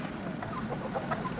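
Chickens cluck near a barn in a 1940s wartime setting, giving a soft, steady murmur of short clucks over a continuous background hiss, fairly faint and with no one talking.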